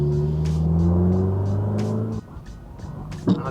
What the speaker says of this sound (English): So I'm gonna drive around